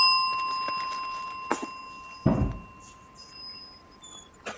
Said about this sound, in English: we are going to ring the bell